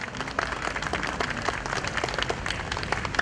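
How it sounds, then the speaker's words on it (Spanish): Applause from the audience at a community outdoor event in Ate, Lima: dense, steady clapping from a crowd of moderate size, heard at a moderate distance and lasting the whole stretch. "Muchísimas gracias, fuerte el aplauso."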